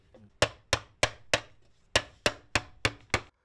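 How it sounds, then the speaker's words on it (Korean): A master metal craftsman hammers sheet metal into the basic frame of a kettle with nine sharp, ringing strikes at a steady, even pace. The blows are close up and heard alone. "계속 망치질 하시는 거예요?"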